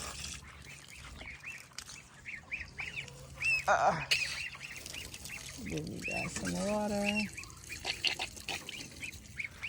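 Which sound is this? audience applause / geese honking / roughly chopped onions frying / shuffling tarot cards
geese honking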